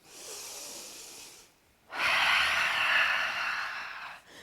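Audible breaths during a Pilates exercise, one airy breath lasting about a second and a half, a brief pause, then a longer and stronger breath of over two seconds, close to the microphone, with no talking.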